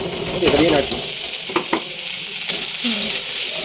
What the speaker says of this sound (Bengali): এদিকে এখন সুজিটাকে ভাজা হচ্ছে, এদিকে পেঁয়াজ আর লঙ্কাটা দিয়ে দাও